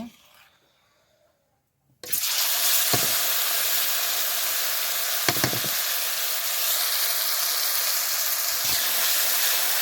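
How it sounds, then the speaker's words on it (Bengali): Quiet for two seconds, then a loud, steady sizzle of spices frying in hot oil in a wok, with a few brief clanks of a utensil against the pan. "তরকারি রান্না করার জন্য প্রথমে কড়াইতে তেল দিয়ে নিলাম। এবার মশলাগুলো দিয়ে দেব।"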